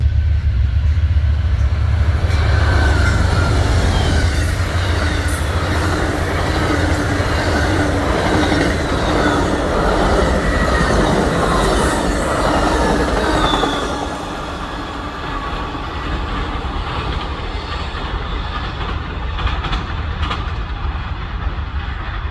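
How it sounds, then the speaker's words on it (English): An Amtrak Floridian passenger train led by a P42 Phase 5 locomotive rolls past, a loud sustained rumble with rhythmic wheel clatter and faint squeals that eases off near the end. "of the Amtrak Floridian with the P42 Phase 5 leader"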